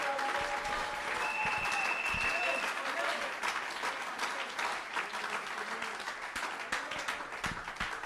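A church congregation applauds in a sustained burst of clapping with scattered cheers, dense and steady throughout and tapering slightly toward the end.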